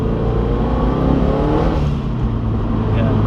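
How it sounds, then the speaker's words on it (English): A GT86 with a forged engine revs hard and steadily under load, its engine note loud and continuous throughout, with no distinct turbo dump valve whoosh standing out. "I've missed that sound of the turbo dump valve"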